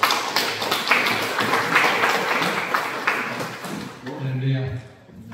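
A church congregation at a workplace mission anniversary gathering in Seoul claps together in a dense, steady burst of applause that fades out near the end, with a voice beginning to speak over the final moments.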